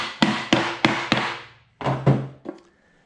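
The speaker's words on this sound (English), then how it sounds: "I like using a block of wood actually, because it disperses the blow of the hammer out" Sharp wooden knocks as a hammer strikes a wood block on a beehive box, a quick series of four, a short pause, then three more, each hollow thunk ringing briefly.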